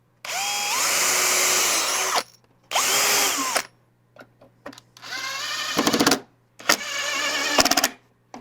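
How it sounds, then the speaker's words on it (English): A power drill pre-drilling holes runs in several bursts, two long whines followed by shorter revving pulses and brief stops, loud and close. "let's pre-drill those holes."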